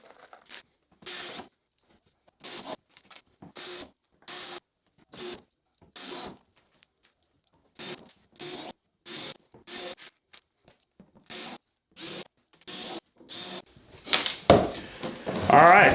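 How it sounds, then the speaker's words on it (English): Screws go into the bottom panel of a wooden crate for shipping a long gun, heard as repeated short bursts of a drill or driver in clusters with silent pauses between them, ending in louder handling noise. "just run about 10 screws around the perimeter and get this bottom on"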